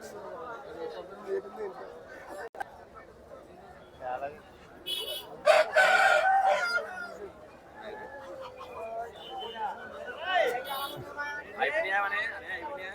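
Roosters crowing at the Gokavaram rooster market, a few calls rising out of steady crowd chatter and bargaining voices, the strongest crow landing midway through.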